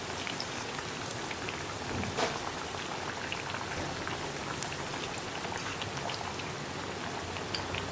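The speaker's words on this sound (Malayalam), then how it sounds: "ഈ സൈഡും കൂടെ ഒന്ന് ഫ്രൈ ആയി വരട്ടെ." Left-over rice vadas frying in hot oil for an evening snack, a steady dense crackling sizzle with scattered sharp pops, close and even throughout, with no talking.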